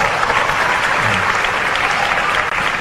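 A hall full of high school student council leaders claps together at a discussion event, a dense, continuous round of applause that holds steady and loud for the whole stretch.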